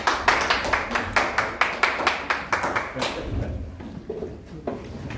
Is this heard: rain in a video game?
no